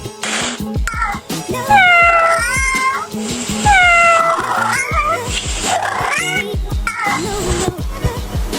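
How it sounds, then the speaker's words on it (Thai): A recorded cat meows repeatedly, a string of loud, drawn-out, wavering cries in quick succession, with caterwauling tones and no talking over it. "ถูกต้องแล้วค่ะ เสียงแมว"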